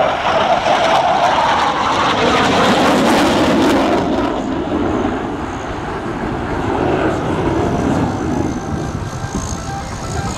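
A supersonic jet at the RAF Cosford Air Show, a loud continuous broad roar that holds steady and then eases slightly as it passes, with no talking.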